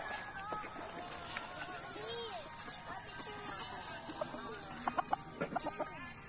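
Chickens and hens on a small chicken farm cluck and squawk in short, scattered calls near and far over a steady high electrical whine, with brief louder bursts of clucking near the end.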